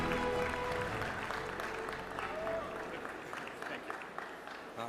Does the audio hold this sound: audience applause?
yes